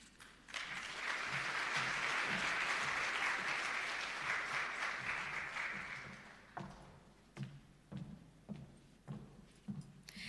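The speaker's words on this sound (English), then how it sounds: "Can we give her another round of applause, please?" Audience applause at a ministry ceremony, a full round of clapping that fades after several seconds into a few scattered claps.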